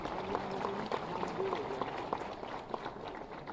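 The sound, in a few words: loud applause from the audience at a ceremony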